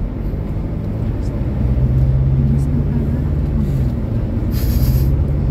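Low, steady engine drone from a Ford Ranger Raptor pickup cruising at around 2,000 RPM, heard from inside the cabin with slight swells in loudness, while someone talks over it.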